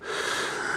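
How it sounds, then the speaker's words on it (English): Close, loud breathing is heard in a Nissan 350Z cabin, one continuous airy breath lasting under a second, with no talk. "You like that loud breathing?"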